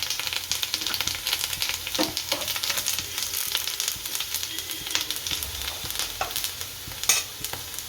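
Curry leaves hit frying green chilies in hot oil for a dry potato bhaji, making a loud, dense crackling sizzle with rapid spatters and a sharp burst near the end.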